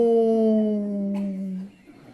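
A storyteller's voice imitates a coyote howl, one long sustained tone that slides slightly downward, close and fairly loud, before breaking off into a short breathy tail.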